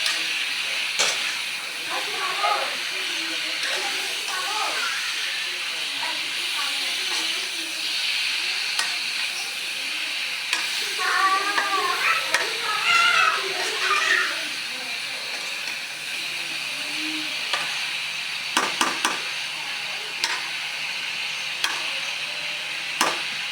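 Pabda fish sautéing with beans, eggplant and potato in a pan, giving a steady hiss and sizzle with faint stirring scrapes throughout, under a quiet voice.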